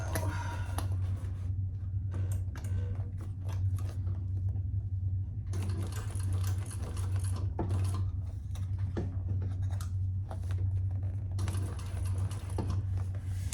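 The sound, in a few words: sewing machine stitching a crossbody bag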